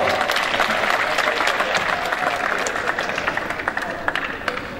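Audience applause at a youth football tournament award ceremony, a dense steady clapping from a crowd that fills the whole stretch and slowly tapers off, with a few louder individual claps standing out near the end.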